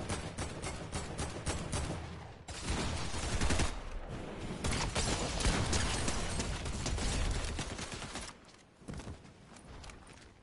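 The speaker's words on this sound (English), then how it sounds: "I have a gold fucking drum gun" A gold drum gun in a video game firing long rapid automatic bursts, loud rattling streams of shots broken by short pauses, with other gunfire mixed in.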